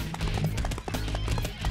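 A horse-drawn carriage in a Dynasty Warriors 4 battle, with quick, steady clip-clop hoofbeats close by and a faint voice briefly underneath.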